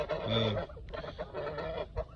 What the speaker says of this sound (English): the Toulouse is a well-known meat goose